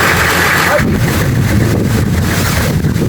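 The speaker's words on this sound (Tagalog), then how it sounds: "Grabe. Lakas tong hangin eh." Strong wind gusts buffet the microphone on a muddy outdoor trail near a blue lagoon, a loud continuous low rumble running throughout with a brighter rush at the start.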